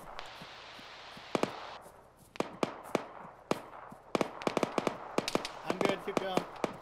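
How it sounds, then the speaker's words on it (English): Sharp gunshots from a bunker in a video game, with single cracks and quick clusters of shots at irregular intervals, some close and loud and others quicker and lighter, over a low background rumble. "Taking fire from somewhere. The bunker's shooting"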